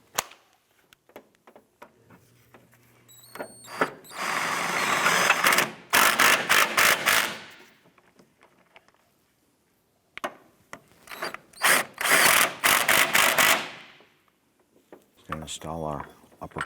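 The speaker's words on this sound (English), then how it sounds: "Let's go ahead and tighten those down." Ratchet tightening the bolts of a front passenger side engine mount on a 2004-2008 Acura TL, in two bursts of rapid clicking, close and loud, with quiet pauses between and a person talking.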